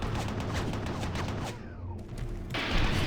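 Rapid weapon fire in Doom 3, with dense overlapping shots and impacts rattling out loudly. The firing breaks off into a brief lull, then resumes with a sharp, bright burst.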